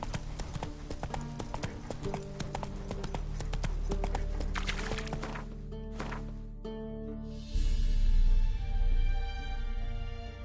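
Hoofbeats of Geralt's horse Roach in The Witcher 3: Wild Hunt, a rapid, steady clip-clop at close range under game music; the gait slows and fades near the end as a deeper rumble swells.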